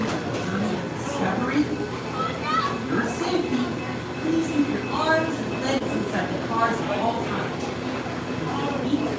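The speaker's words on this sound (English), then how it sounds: "It looks like the train is filled." Amusement park train at Kennywood Park rolling past, a steady rumble with clattering under a busy crowd, children's voices and nearby talk throughout.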